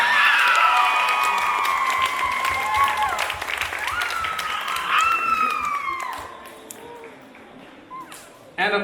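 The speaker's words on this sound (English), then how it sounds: "Give yourselves an awesome round of applause." Audience at a school international day show applauding and cheering loudly after a power outage, dense clapping mixed with whistles and shouts that gradually thin out and fade.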